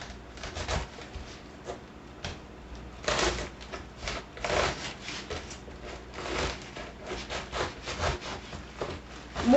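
A knife saws through a whole cabbage to halve it, making repeated crunchy, rasping strokes with small leafy snaps, close and steady, with no talk.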